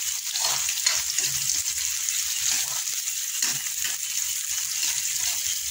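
Garlic and onion sauté in a pan with a dense, continuous sizzling hiss, close and even throughout, with faint clinks of stirring and no voices.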